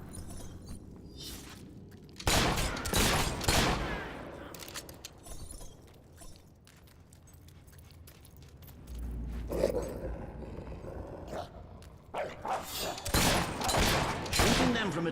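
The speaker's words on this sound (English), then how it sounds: "Marvelous shooting." Gunfire in the Fable III action role-playing game: rapid volleys and single cracks in bursts separated by quieter stretches, with clattering impacts and a voice speaking between the shots.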